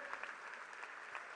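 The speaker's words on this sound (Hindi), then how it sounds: "तालियां बजती रहें, तालियों का संगीत बहता रहे" Crowd applause for the Prime Minister at a cultural festival in Varanasi, a dense, steady wash of many hands clapping, fairly faint and distant, with no talk.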